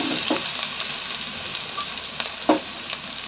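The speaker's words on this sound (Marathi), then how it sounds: "आता पॅनवर हिरी लसूण आणि हिरवी मिरची तर वाटून घेतलेली होती तिचा असा छान तडका करून घ्यायचा" A tadka of ground garlic and green chili fries in a pan with a dense, bright, close sizzle, broken by a few soft stirring scrapes, with no voices.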